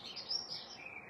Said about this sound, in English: Pretty birdies all around, just chirping and chirping.